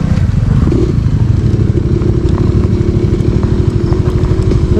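A Suzuki Skydrive Crossover scooter climbing an uphill trail at half throttle, its engine a loud, close, continuous drone with a rattling clatter throughout.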